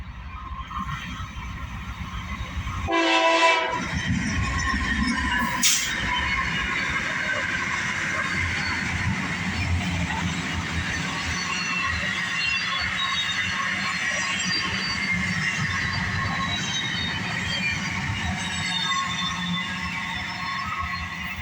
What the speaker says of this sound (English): It's a little mixed freight train with a little bit of a container cars.